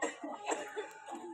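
A woman coughs in a short, close series of harsh bursts, a few hacking pulses in quick succession with no talk over them.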